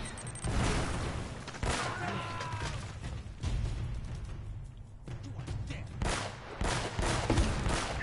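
Gunfire crackles through a firefight in the video game Uncharted, with repeated bursts and scattered shots over a dense, noisy battle bed and bits of voice mixed in.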